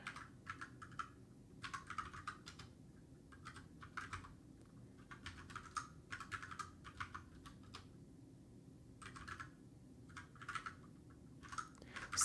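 Quiet typing on a computer keyboard, bursts of soft key clicks in irregular clusters separated by short pauses, close by over a low background hum.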